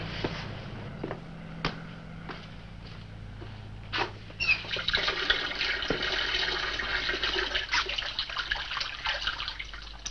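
A tap runs steadily in a room as someone washes, with light splashes and clinks early on and a denser, louder flow of running water after a few seconds.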